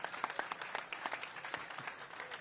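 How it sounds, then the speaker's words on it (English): Outdoor crowd at a groundbreaking ceremony gives a short round of applause, brisk scattered clapping at moderate volume. "Let's give her a round of applause."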